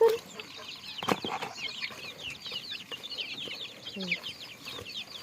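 A flock of hungry chickens clucks and chatters continuously at close range at early-morning feeding time, with a few sharper squawks poking through the busy chorus.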